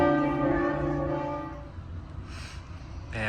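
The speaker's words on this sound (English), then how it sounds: "I was wondering why the church bells were ringing so much when we came around the corner" Church bells peal for a village wedding in France, a strong harmonic ringing that swells over the first second and a half and then fades into quieter ambient noise.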